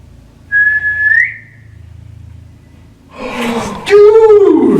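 A single clear whistled note rises briefly, followed by a breathy sound and a lower wavering whistle near the end, close and loud.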